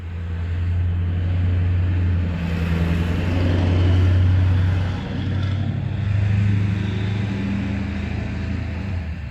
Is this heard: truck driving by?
yes